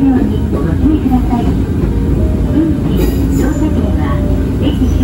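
Interior ride on an Ichibata Electric Railway 2100 series train, a former Keio 5000 series car, on the Taisha Line: a loud steady rumble of wheels and motors with faint rail clicks throughout, and a voice talks over it.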